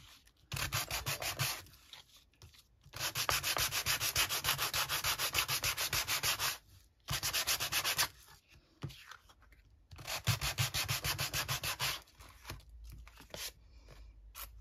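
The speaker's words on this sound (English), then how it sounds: "so then I got me sander again. Went over it a little bit" Electric sander working over a postcard, in loud buzzing bursts of a few seconds each separated by short pauses, close to the microphone.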